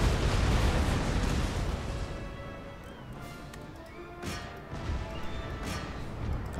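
Ship cannons firing canister shot in a naval battle game, with heavy booming blasts and crashing impacts layered over continuous rumbling battle noise, several sharper reports landing in the second half.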